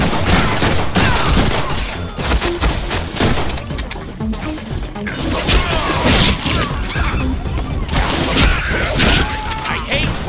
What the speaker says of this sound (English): Think on that while I shoot you.